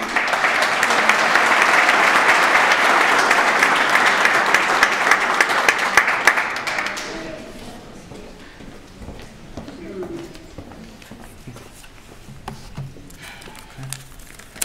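Audience applause fills a scholar athlete banquet for a Newton High School honoree, a dense, loud ovation of many clapping hands lasting about seven seconds before fading into quiet room murmur and scattered claps.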